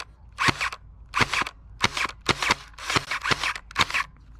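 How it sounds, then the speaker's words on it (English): A Nerf Pro Gelfire Uproar compact full-auto gel blaster fires downrange in short bursts, each a quick cluster of two or three sharp, snappy pops with brief gaps between groups, fairly close and moderately loud. "Now let's fire some shots downrange."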